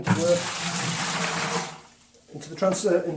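Sanitising solution pours into a plastic beer bottling bucket, a steady rushing splash of liquid that stops briefly before a few more spills and clinks, with faint talk.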